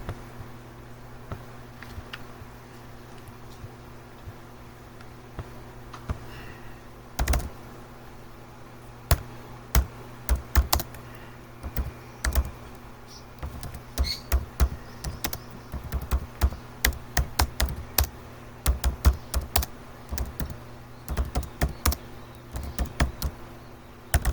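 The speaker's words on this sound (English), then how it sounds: "let me go type that up in Google" Keys on a computer keyboard are tapped in irregular bursts, sparse at first and then quicker clusters of clicks, close and fairly quiet over a low steady background hum.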